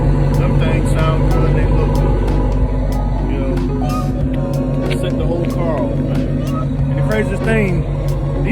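A car exhaust with staggered quad tips idles and rumbles, a deep steady drone close by, with people talking and crowd chatter over it.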